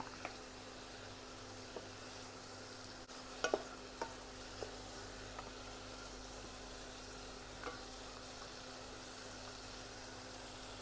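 Pork for a coconut shoot curry stir-fries in a pan with a faint, steady sizzle, broken by a few light clinks and scrapes of stirring.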